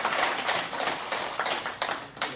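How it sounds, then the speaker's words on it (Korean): A church congregation claps in a burst of dense, uneven applause that fills the room, then thins out into scattered claps toward the end. "영광의 박수 한번 칩시다."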